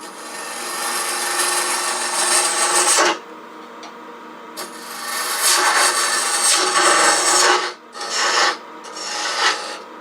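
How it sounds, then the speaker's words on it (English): A tool hollows hard boxwood on a wood lathe, making loud, continuous scraping and rasping. The cut breaks off briefly a few times and then resumes. "I'm going to do a little bit of hollowing now, not much"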